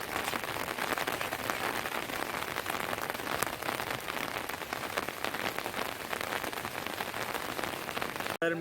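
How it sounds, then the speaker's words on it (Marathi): Light rain falls steadily outdoors over a village view of fields and hills in Konkan, Maharashtra, a soft, even hiss of drops continuing throughout with no voices. "आता पाऊस थोडासा मंदावला आहे"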